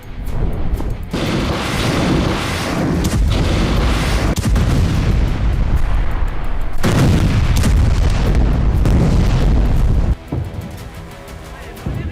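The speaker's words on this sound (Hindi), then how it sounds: "वीडियो में साफ दिख रहा है, किसी अंडरग्राउंड ठिकाने से रॉकेट हमले किए जा रहे हैं" Loud, sustained barrage of booming rocket launches fired from an underground site near the Israel–Lebanon border, with repeated heavy blasts and roaring bursts running continuously, then dropping in level near the end.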